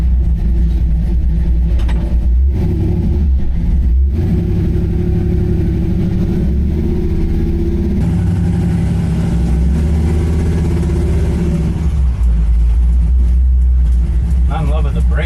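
A Chevrolet C10 truck with a tuned LS3 engine and Holley Terminator X rumbles steadily while driving, its low engine drone loud throughout with gear-change shifts in pitch, under occasional talk.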